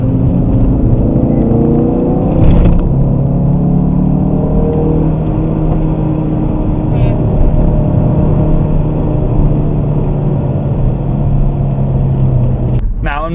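A Ford Focus RS engine drones steadily under load in a sustained in-cabin rise while chasing a BMW M4 on the road, with a voice talking over it throughout.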